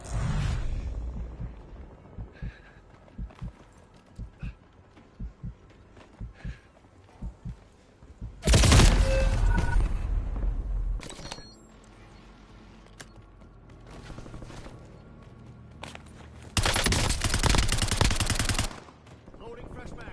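Video game gunfire from a battle royale match: a few loud bursts of shooting stand out over quieter scattered footsteps and game sounds, with occasional talk.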